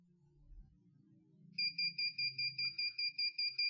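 A steady electronic buzzer driven by a NodeMCU ESP8266 beeps in a fast, even pulse of about a dozen short tones, loud and close, after a quiet stretch of low background noise.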